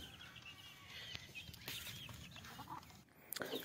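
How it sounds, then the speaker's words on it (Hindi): Small chickens cluck steadily indoors, sheltered from bad weather, with several close, overlapping clucks and calls throughout a short, quiet stretch. "ये है हमारी छोटी छोटी मुर्गियाँ, क्योंकि मौसम ख़राब हो गया था और ये भीग के बीमार हो जाती, इसलिए हमने इनको भी अंदर डाल दिया"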